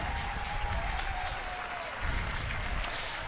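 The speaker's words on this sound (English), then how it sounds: "the crowd are cheering for the whole team" Applause and cheering from spectators at an ultimate frisbee U-24 World Championships game, Japan vs. Canada, a steady broad wash of crowd noise over the full stretch with a faint commentator-like tone underneath.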